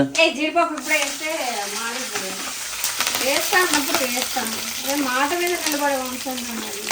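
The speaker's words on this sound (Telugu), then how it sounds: "జీలకర్ర చిటపట్లాడుతుంది" Cumin seeds crackle and sizzle in hot oil in a home kitchen, a steady close frying hiss with a voice talking over it throughout.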